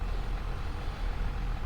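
Machine filling up in Farming Simulator 25, giving off repeated beeping over a loud, heavy engine rumble that holds steady for the whole moment, with no talking.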